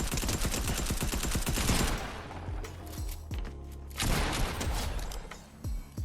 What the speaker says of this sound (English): I decided to start off the fight with an SMG beam